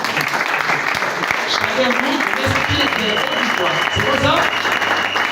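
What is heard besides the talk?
church congregation applause and acclamations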